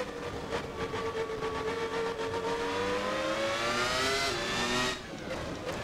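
A Williams FW19 Formula One car's engine in a racing video game, throttle blipped as the loud, continuous howl climbs steadily in pitch before dropping sharply near the end.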